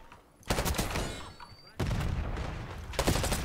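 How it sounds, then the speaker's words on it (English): Gunfire in Call of Duty: Black Ops 6 comes as loud, dense bursts of rapid shots, one cluster after another with brief quieter gaps between them, close and forceful. "HVT under fire. Repeat, HVT under fire."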